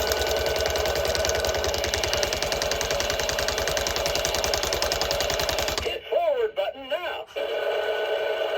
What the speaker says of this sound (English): So this vehicle rumbles like a real tractor.